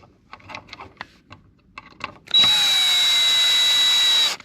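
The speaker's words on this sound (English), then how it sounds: "I use a drill because I'm lazy." A few light clicks and taps, then a power drill whirs loudly and steadily for about two seconds while unscrewing a screw from an electrical outlet, before cutting off.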